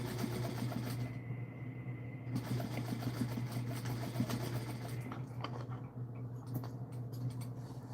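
A sewing machine stitches a center seam with a quiet, steady mechanical whir and fine rapid ticking, close but soft, running continuously with slight changes in pace.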